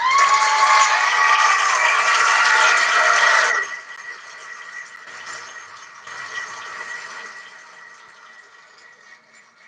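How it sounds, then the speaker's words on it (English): Applause for Kim at a gathering of DoorDash delivery drivers, a dense burst of clapping that cuts off sharply after a few seconds and gives way to a quieter mix of scattered sounds. "Kim Side Money Plans deserve a round of applause, ladies and gentlemen"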